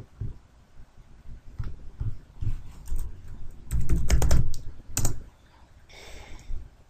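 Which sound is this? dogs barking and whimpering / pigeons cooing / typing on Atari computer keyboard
typing on Atari computer keyboard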